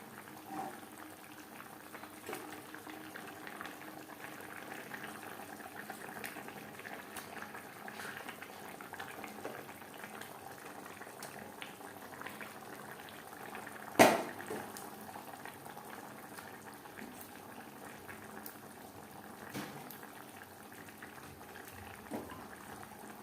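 Fish curry gravy for khoira macher jhal boils in a pan with a continuous soft bubbling and simmering hiss. A single sharp knock sounds midway, and no one speaks.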